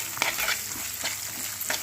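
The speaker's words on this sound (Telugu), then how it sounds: "సో పచ్చిమిరపకాయలు కూడా వేగుతున్నాయి" Green chillies and onions frying in a spice mix with sesame and poppy seeds for a meal maker kurma, a steady close sizzle broken by a few scraping stirs of the pan.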